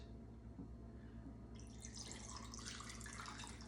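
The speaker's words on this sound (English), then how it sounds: "This is Crystal Light lemonade iced tea, already mixed." Premixed Crystal Light lemonade iced tea is poured from a container, a faint liquid trickle and splash starting midway and continuing briefly at low volume, with no talking.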